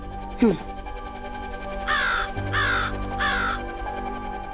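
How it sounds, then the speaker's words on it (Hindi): A crow caws three times in a steady run of loud, harsh calls that stand out clearly against quiet indoor sound in a domestic TV serial scene. "तो फिर ये कौवा काऊ काऊ क्यों कर रहा है?"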